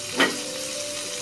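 Chicken frying in a pan with onions and spices gives a quick hiss burst, then a faint steady sizzle that fades out within about a second, close by and without voices.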